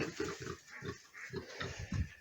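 Piglets weaned from the sow squeal and grunt in a crowded pen, a continuous chorus of overlapping cries and snorts at moderate loudness.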